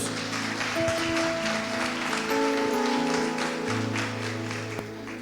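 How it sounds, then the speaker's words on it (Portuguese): Applause from a congregation during a church service, a soft, diffuse patter of many hands under sustained music tones that fill the room. "Aplauda ao Senhor em nome de Jesus"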